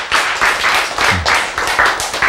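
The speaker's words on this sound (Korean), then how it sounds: "박수." A church congregation claps in a steady rhythm during a sermon. About seven loud, close claps fall at even intervals over a constant background.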